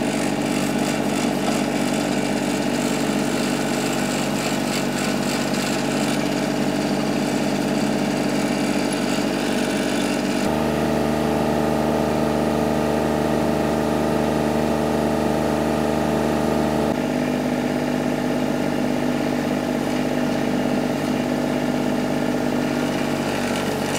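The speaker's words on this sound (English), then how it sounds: "hopefully finish driving these piles in the ground so that we can start building this deck" Machine engine drives helical piles into the ground for a deck, a loud continuous mid-pitched drone and rumble, shifting tone partway through as the load changes, with no voices.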